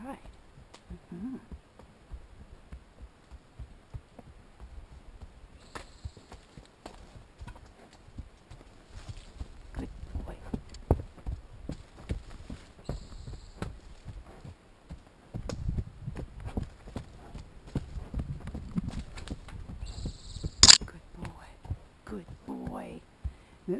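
A horse's hooves clip-clop in a steady walking rhythm on a long trail ride, close by and moderately loud, with a rider talking intermittently over the footfalls.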